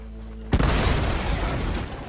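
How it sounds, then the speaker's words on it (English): Dynamite blows up a moonshine still in the video game Red Dead Redemption 2: a sudden loud blast after a low hum, then a sustained roaring wash of debris and rumble. "take aim and shoot the dynamite to detonate it"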